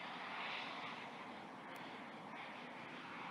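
An E-Flite F-16 model jet passing low over a runway at an outdoor RC air show, a steady faint whooshing turbine roar holding evenly throughout from a middle distance.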